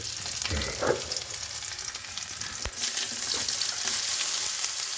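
Dried red chillies and a little garlic fry in oil with a steady, hissing sizzle. A few soft stirring scrapes and a clack can be heard, close and without talk.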